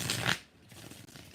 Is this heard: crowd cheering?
no